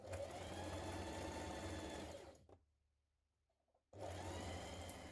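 Sewing machine hemming the bottom edge of an Iris knit cardigan, running steadily and loud for over two seconds, pausing briefly to near silence, then starting up again at full speed.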